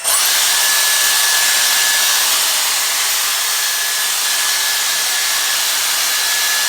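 A Dyson Airstrait hair styler blows air with a loud, steady, breathy whoosh that starts abruptly and holds at constant intensity throughout.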